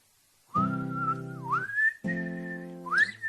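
Someone whistles a short tune in two clear phrases, each note sustained with sliding pitch at the ends, close and alone.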